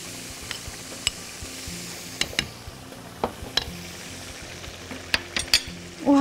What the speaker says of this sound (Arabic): وهنحرك.